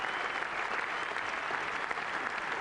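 A big crowd at a Trent Bridge Test match in 1991 gives sustained applause for Graham Gooch reaching fifty against West Indies, a steady dense clapping across the ground.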